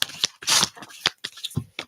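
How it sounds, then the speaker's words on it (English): A deck of tarot cards is shuffled on a table in quick, crisp bursts of riffling and slapping, close and irregular in rhythm, with no talking. "Shuffle them up, and we'll see what comes out."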